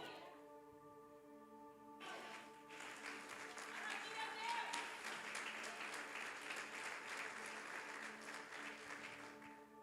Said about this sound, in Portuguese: Você já pode se assentar aplaudindo ao nome do Senhor?